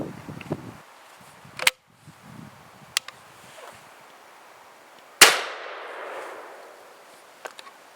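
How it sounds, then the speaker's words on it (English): A Baikal IJ17 single-barrel shotgun fires a .410 shell through a 12 gauge adapter outdoors: one sharp, loud report with a trailing echo, among a few fainter clicks and knocks and light wind. "here's shot number 1 out of the 410 adapter"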